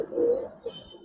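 An old-breed Giribaz zira-neck pigeon gives a soft, low, rolling coo that swells and fades, followed by a shorter second murmur, quiet and close with no voices.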